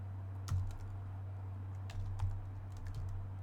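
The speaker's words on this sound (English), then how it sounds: "I like to use the tab key on my keyboard" Keystrokes on a computer keyboard while working in ArcGIS Pro, a handful of soft, close clicks scattered irregularly over a steady low hum, with no talking.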